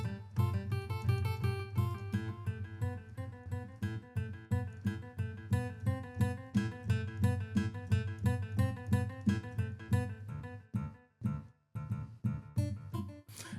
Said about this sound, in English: So I started off with some string picks.